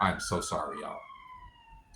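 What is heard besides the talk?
police sirens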